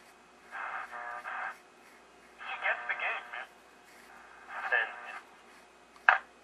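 Philco 38-10 radio tuned across the AM dial, its sound bursting in and cutting out in several uneven chunks with gaps of near silence, ending on a brief sharp crackle.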